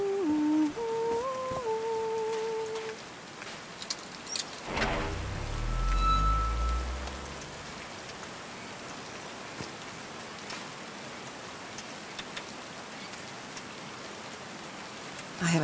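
Steady rain falling in the video game Call of the Sea, a dense, even hiss of drops that runs the whole stretch, with a brief low rumble near the start and a few tonal notes at the opening.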